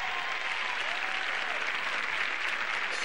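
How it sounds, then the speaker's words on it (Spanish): Studio audience applause on Spanish TVE1 music show Música Sí in 2000, after a pop duo's final song, a dense, steady roar of clapping that fills the whole stretch at an even loudness. "seguro que se merecen un fuerte aplauso"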